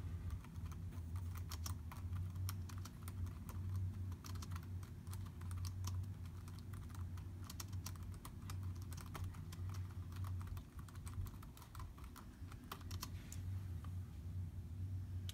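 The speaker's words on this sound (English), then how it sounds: "I'll type a little bit on the keyboard so you can kind of hear what the keyboard sounds like on this." Steady typing on a Chromebook laptop keyboard, a dense run of soft, slightly squishy key clicks with no one speaking, close and continuous.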